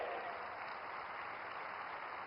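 A crowd applauds to welcome the Home Minister at a 125th birth anniversary commemoration of Dr. Syama Prasad Mookerjee. The clapping is even and sustained, heard alone throughout.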